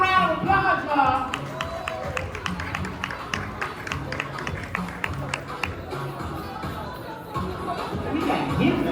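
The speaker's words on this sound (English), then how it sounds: "Give them a round of applause" An audience claps and cheers for a panel coming on stage, a sustained patter of many hands mixed with crowd noise while someone talks over it.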